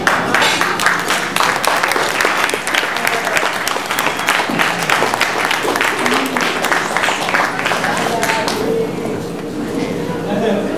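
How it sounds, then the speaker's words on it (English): Audience at a cultural series event clapping loudly and continuously, sharp individual claps standing out, with voices talking through the applause near the end. "let's have a big round of applause for Attila."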